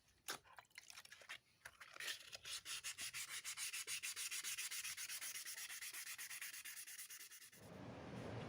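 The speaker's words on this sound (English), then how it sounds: "I'm working my way through all my papers up until 800 grit before I polish on machine." Rusty old camping axe head being hand-sanded with sandpaper, worked up through grits to 800: a rapid, steady run of close, loud back-and-forth scraping strokes, with no talking.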